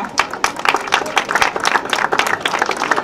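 An audience at the 2019 Anguillade eel festival in Saint-Chamas applauds the event's three founders with dense, even clapping that runs steadily throughout, fairly close and loud.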